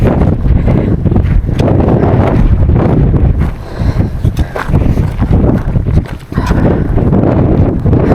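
Strong gusting wind roars across an exposed mountain ridge summit on the Isle of Arran, buffeting the microphone in loud, dense rumbling blasts that briefly ease twice before surging back.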